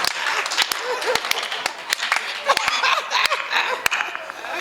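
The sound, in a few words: audience applause at a comedy poetry event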